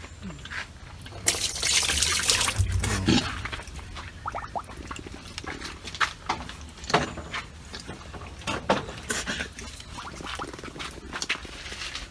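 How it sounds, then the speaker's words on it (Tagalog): Water splashes and trickles into a pig's trough, a steady pour early on followed by scattered drips and small sloshing sounds. "Ilagay mo pa ng tubig."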